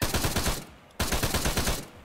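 Heavy 12.7 mm machine gun in a video game firing rapid bursts, loud and close, with a short pause before the stream of shots resumes.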